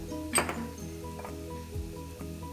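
Cabbage seasoned with salt, cumin, garam masala and coriander powder sizzles softly in a pan, with a sharp metal clink and a few spoon scrapes as it is stirred close by, no voices.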